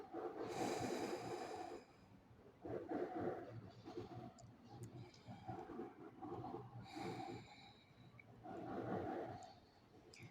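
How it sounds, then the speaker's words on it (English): During a forearm yoga pose, slow quiet breaths come close and soft, about four inhale-exhale cycles in an even rhythm, with no talking. "let's take a few quiet breaths here"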